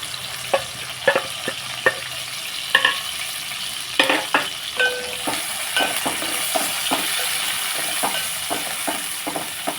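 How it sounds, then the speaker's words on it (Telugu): Green chilies frying in hot oil in a pan, a steady sizzle with repeated stirring scrapes and clinks throughout, close and fairly loud with no talk. "స్టవ్ వెలిగించి ప్యాన్ పెట్టి ఆయిల్ పోసాను ఈ టెక్నిక్ కదా పచ్చిమిరకాయలు ఇవి వేసేస్తున్నాం"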